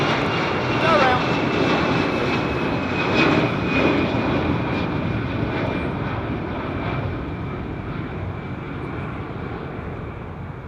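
A large airliner's jet engines roar steadily at Heathrow Airport during a go-around in stormy weather, loud and sustained before slowly fading as the aircraft climbs away.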